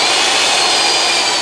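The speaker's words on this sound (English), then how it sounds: "That thing is a high torque drill" A high torque drill drives a spigot into a whiskey barrel, a loud, continuous whirring roar held steady throughout with no voices.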